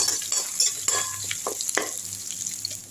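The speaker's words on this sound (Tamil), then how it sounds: "இஞ்சி பூண்டு இந்த மாதிரி தட்டி போட்டுக்கோங்க அரைக்காமல் வதக்கி விட்டுடலாம் நல்லா வதக்கி விட்டுருங்க" Crushed ginger and garlic, pounded rather than ground, sautéing and being stirred in a pan, with a steady close sizzle and scraping stir strokes throughout and no one talking.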